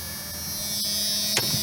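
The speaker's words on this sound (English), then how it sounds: "Probably can't hear it over the" Electrical hum and buzz inside an old Jeep Cherokee revived after sitting over a decade, with the blower fan running, a steady tonal drone holding throughout, nearby and moderately loud, with a brief click near the end.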